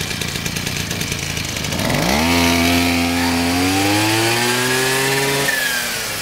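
A Mitsu Heavy Duty T200 brush cutter engine idles, then revs up sharply into a loud, high, sustained whine and drops back toward idle near the end.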